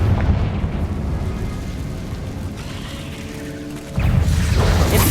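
A Confringo blasting spell explodes in Hogwarts Legacy, a sustained roaring boom that swells again near the end, set against continuous game sound.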